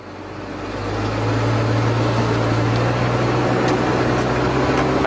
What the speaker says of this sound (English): the transmission shifts up from C5 to C6 and then up into D range